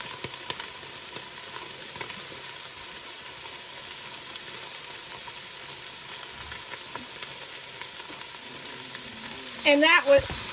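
Half an extra large onion fries in a soup pot, a steady bright sizzle and hiss throughout with faint scattered crackles, then a brief burst of stirring near the end.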